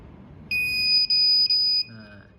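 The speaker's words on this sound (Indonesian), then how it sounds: "itu menandakan bahwa si buzzer itu berbunyi" A small Arduino electronic buzzer gives a piercing high beep, broken into three quick tones, loud and close over a faint background hum.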